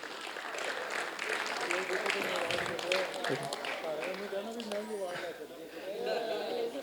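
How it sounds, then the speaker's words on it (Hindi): Audience applause at a theatre workshop's culmination day as a performer is called up, a steady wash of clapping mixed with crowd chatter and nearby voices throughout. "जोरदार तालियां मैम के लिए"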